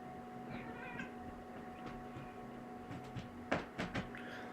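A pet cat meows indoors in a few short, fairly close calls near the end, over a steady background hum with faint knocks.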